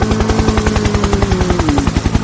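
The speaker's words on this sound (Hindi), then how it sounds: "ओ वाह, हेलीकॉप्टर। वूम" A toy helicopter makes a loud, close, rapid chopping rotor pulse that stays steady and rhythmic, with a whirring tone underneath.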